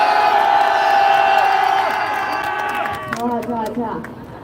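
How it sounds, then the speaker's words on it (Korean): Loud rally crowd at a Korean political campaign event roars and whoops together in a sustained, chanting cheer that fades into scattered shouts and voices near the end. "우리 환호 함성 한번 5초 동안 질러보도록 하겠습니다"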